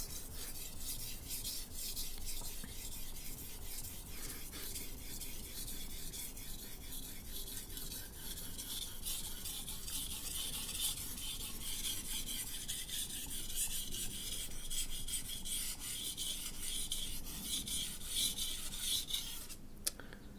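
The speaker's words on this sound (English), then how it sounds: "sometimes I just like to sharpen in one region of the stone just to make sure that I hit those areas that get neglected" A chef's knife is sharpened on a whetstone, producing a steady rhythmic scraping and rasping as the blade is stroked back and forth, continuous and close, ending with a short clack.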